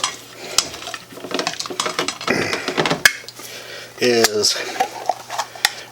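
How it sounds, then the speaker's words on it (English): A spoon stirs brown sugar into chicken adobo sauce in a metal pot, scraping and clinking against the sides in short irregular strokes, heard under a voice in a kitchen. "Get it stirred in there really good"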